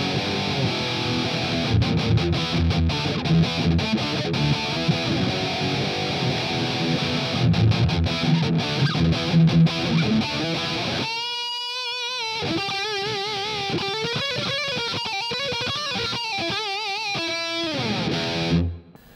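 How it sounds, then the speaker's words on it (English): Heavily distorted electric guitar through the distortion channel of a NUX Mighty Plug MP-2 headphone amp modeler, with noise gate on, playing chords and then sustained bending lead notes, loud and saturated, with reverb, fading out at the end. "that is the distortion channel on the NUX Mp-2"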